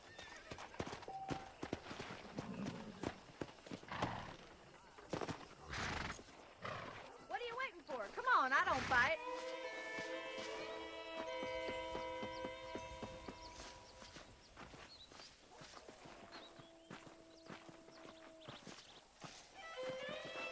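Horse hooves clip-clop in a Red Dead Redemption video game scene, with a horse whinnying and snorting midway, then a rider pulls up while game characters talk over soft background music.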